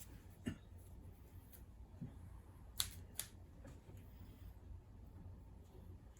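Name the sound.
scissors snipping thread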